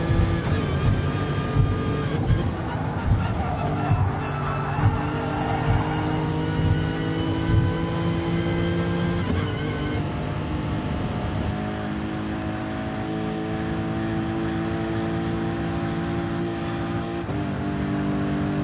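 A race car engine in Gran Turismo Sport, during a daily race at a Tokyo circuit, revs loudly and continuously, accelerating through gear changes with steady, close engine whine and no talking.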